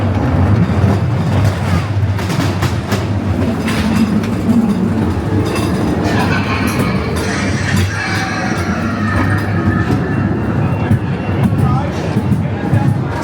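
Ghost Train dark ride car running on its rails at Blackpool Pleasure Beach, a loud continuous rumble with clattering wheels and occasional squeals, with voices mixed in throughout.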